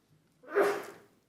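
A single sharp sneeze bursts out in a quiet room at a city board of aldermen meeting, short and moderately close, with no talk around it.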